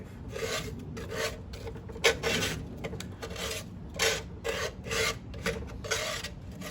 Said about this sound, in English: So due to laziness, I'm using a putty knife.